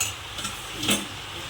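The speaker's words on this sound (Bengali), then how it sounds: "এবার ভালো করে শাকের সাথে সবজিগুলো মিশিয়ে নিচ্ছি" Spinach with green chillies and vegetables is stirred in a pan, giving soft scraping strokes over a light sizzle, close and brief with no talk.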